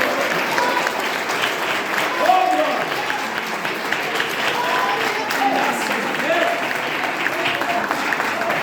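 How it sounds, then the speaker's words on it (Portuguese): A church congregation applauds, a dense and steady clapping from many hands that fills the room, with voices mixed into the crowd. "Uma salva de palmas para o Senhor."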